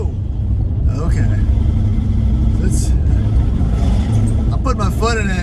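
A Land Rover Discovery II with a bad engine drives off, its loud, steady low rumble running throughout the clip with a few brief rattles and clunks on top.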